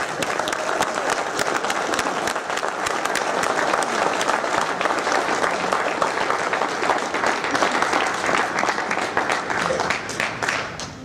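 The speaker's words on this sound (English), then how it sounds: "Applause for all the inductees this year." Sustained audience applause at a wrestling Hall of Fame induction ceremony honoring the inductees, dense and steady clapping from a large crowd throughout, fading slightly at the end.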